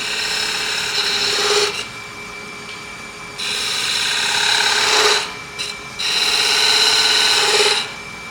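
A chisel cuts a wooden spindle on a lathe, riding the bevel in three raspy scraping passes separated by quieter whirring gaps, close and loud with no talk.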